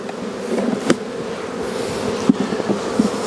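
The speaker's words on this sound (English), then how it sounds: "we shook all the bees off" Honey bees swarm around an open beehive in a late-May beeyard, making a dense, steady buzz. Scattered louder knocks and clicks from the hive work break through the close, continuous drone.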